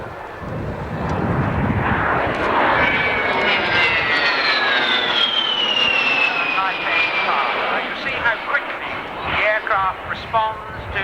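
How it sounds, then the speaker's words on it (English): An A-10 jet flying past at an airshow, a loud roaring pass that rises and fades with a sweeping whine, while a commentator talks over it throughout. "Here comes the A-10."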